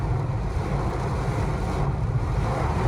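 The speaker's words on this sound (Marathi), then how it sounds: "रोड कुठं आहे ते दिसतच नाही, एवढा जोरात पाऊस आला." Heavy rain pours down with wind, a dense, steady roar buffeting the microphone up close, with no voices.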